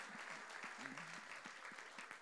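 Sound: congregation applause in church

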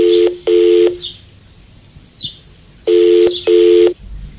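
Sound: telephone dialing sound effect in audio story

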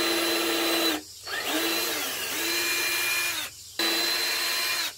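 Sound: power drill drilling holes in bonsai pot

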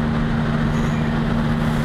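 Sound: truck driving past on the road

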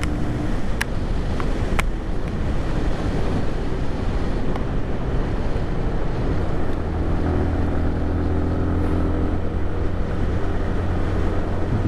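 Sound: Lifan KPR 200 motorcycle engine at maxed revs

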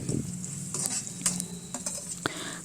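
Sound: frying onions in a pan

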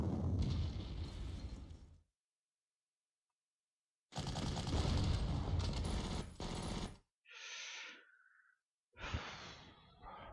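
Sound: units firing on a bunker in the video game Panzer Corps

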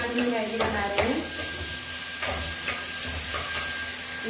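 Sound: onions and chilies frying in a pan for Maggi

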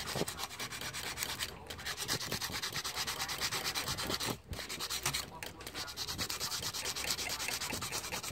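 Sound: sanding engine part with sandpaper

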